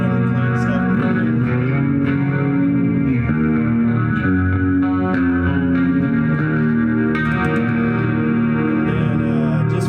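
An electric guitar on a basic clean setting through a Fender FR 12 amplifier plays sustained, layered chords and notes with a lush, effected tone, loud and steady with no talking.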